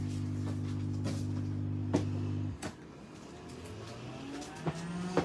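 A foot spa massager runs with air bubbling up from below and a vibrating base, giving a loud, steady motor hum that drops off partway through into a softer, rumbling bubbling.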